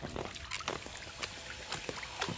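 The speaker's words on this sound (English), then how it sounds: "We're making waves, guys!" Hand-made splashing waves in water for a small RC boat, heard as a run of quick sloshing splashes and trickles at close range, fairly soft and uneven, with no talk.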